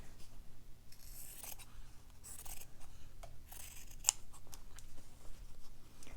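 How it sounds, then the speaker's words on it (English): Scissors snipping through fabric to cut out gazebo pieces for a Christmas fabric book, soft close repeated cuts with quiet rustling of cloth between them. "So I'll just quickly cut those out."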